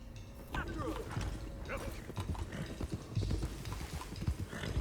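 Horse hooves clip-clop in the video game Red Dead Redemption 2, an uneven run of close thuds and clatters over a busy game soundscape.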